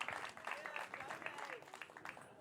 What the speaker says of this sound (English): Round of applause to FoodShare SC and the food justice work that they're doing.